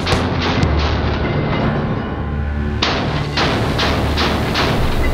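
A 50 caliber machine gun fitted with a B.E. Meyers flash hider fires a quick rhythmic string of heavy booming shots, loud and close, over a constant low rumble.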